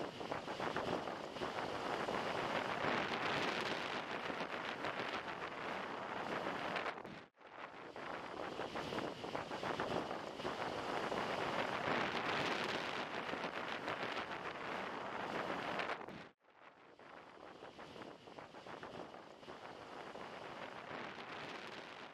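Powerful gusts from Typhoon Danas in Taiwan in 2025 roar and buffet the microphone in three long, loud stretches separated by brief dips, a rough broadband rush with no voices.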